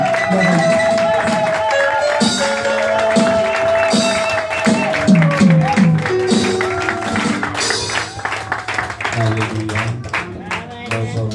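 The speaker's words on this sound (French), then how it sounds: "nous allons le recevoir avec les acclamations" A church congregation at a Sunday evangelistic crusade claps and cheers to welcome their pastor, sustained applause and crowd noise mixed with music and voices over about eleven seconds.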